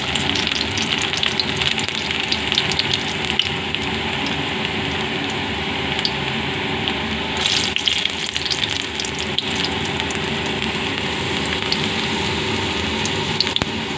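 Chopped garlic frying in a pan for egg noodles, a dense continuous sizzle and crackle with occasional stirring, loud and close throughout, no one speaking.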